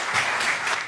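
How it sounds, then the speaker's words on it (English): A brief burst of audience applause for a speaker at a conference, a dense, steady wash of many hands clapping close and loud, lasting under a second. "Round of applause for Barry Childs."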